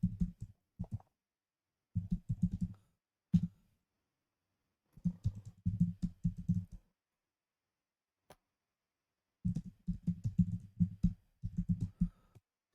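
Computer keys are typed in short bursts of rapid clicking while a folder is renamed, with quiet pauses between the clusters and no talking.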